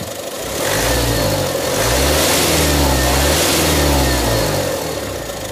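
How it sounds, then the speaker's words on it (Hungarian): Mazda 5 2.0 diesel engine revved in two rising and falling throttle blips, loud and close, settling back toward idle at the end. "Ha ide teszem, nyomok egy gázt."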